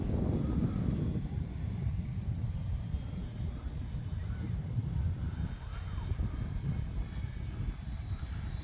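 An E-flite F4U-4 Corsair 1.2m RC model plane flies at full throttle, giving a steady, loud, continuous motor drone with wind buffeting on the microphone.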